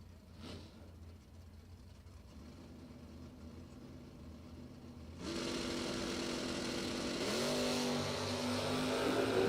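A Camaro drag racing car's engine idles low at a bracket race, then rises sharply into a louder, sustained revving roar, with pitch sweeps as the throttle climbs.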